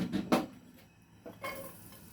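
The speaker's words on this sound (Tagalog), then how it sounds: "So, isusuti lang natin ang ating garlic." Garlic is sautéed in a pan, with a few scraping clanks of a utensil against the metal and a soft, faint sizzle between the clatters, close by and quiet.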